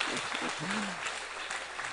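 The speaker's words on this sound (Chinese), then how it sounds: "来一个掌声啊！" Crowd applause at a motivational business seminar, a broad steady wash of clapping through the whole stretch, with a brief voice or two rising faintly beneath.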